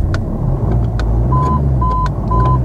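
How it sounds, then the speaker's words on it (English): A cheap Jeep Cherokee diesel engine idles with a steady low rumble close by, while short electronic warning beeps chime repeatedly over it. "What a creamy, smooth engine this is."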